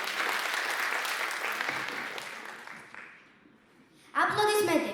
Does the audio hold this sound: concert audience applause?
yes